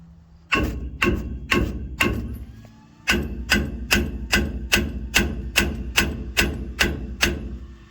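A heavy hammer strikes a stuck brake rotor, about fourteen loud, sharp metallic blows at a steady rhythm, close by, with a short pause after the first few hits.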